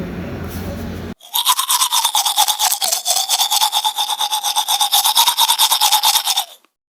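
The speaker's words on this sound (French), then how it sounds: "Allez, go se brosser les dents." A toothbrush scrubs teeth in quick back-and-forth strokes, a steady rapid rhythmic bristle rasp that starts abruptly after a brief low hum and runs close and loud for several seconds before cutting off.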